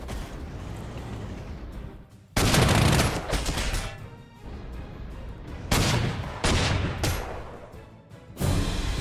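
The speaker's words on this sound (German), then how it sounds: "Das ist mit Artillerie." Artillery fire in the war game Panzer Corps 2: three loud, sharp blasts, each breaking into a rumbling crackle of impacts, separated by quieter lulls of low battlefield rumble.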